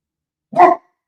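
One short, close, sharp bark from a dog at home, standing alone in otherwise silent surroundings.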